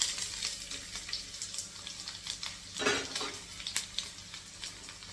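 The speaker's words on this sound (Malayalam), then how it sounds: "നമ്മുടെ കടുകൊക്കെ പൊട്ടുന്നുണ്ട്" Mustard seeds crackling and popping in hot oil in a non-stick pan, a busy sizzle broken by scattered sharp pops and a louder burst near the middle, with no talk.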